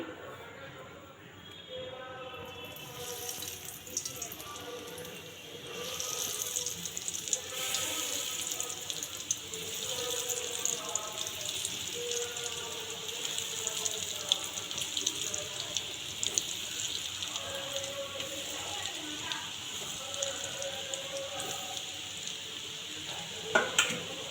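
Vegetable chops slide one by one into hot oil on a low flame. A steady sizzle starts after a quiet opening and continues with light stirring, under intermittent talk.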